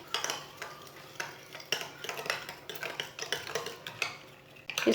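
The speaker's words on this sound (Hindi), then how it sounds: "सब चीज़ों को मिक्स कर लेंगे" Spoon stirring eggs, sugar and kalonji seeds together in a bowl, with repeated close scraping and clinking strokes in an irregular rhythm, no talking.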